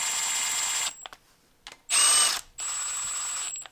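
Power tool torquing camshaft bolts during an engine camshaft and timing chain install, with bursts of loud, high-pitched mechanical whirring and ratcheting separated by short pauses.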